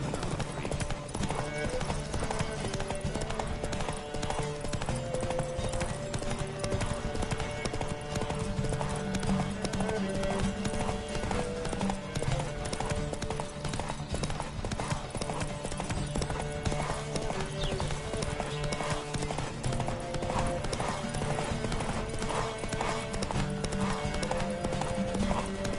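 Horses gallop hard during a race in The Witcher 3, their hooves drumming in a fast continuous rhythm over game music, with occasional voices and a whinny mixed in.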